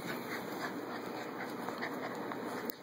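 Puppies up for adoption whimper and squeak in a steady, busy chorus, close and moderately loud over a constant high-pitched background hum, with no talk.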